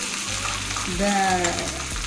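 Hot oil crackles and sizzles as tempering spices hit the pan, for a sago curd-rice dish, with a brief voice audible over the frying.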